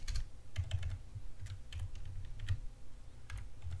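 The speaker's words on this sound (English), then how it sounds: "I'm going to go ahead and type them in right now" A computer keyboard is typed on in quick irregular bursts of light clicks, close and fairly quiet, with no speech.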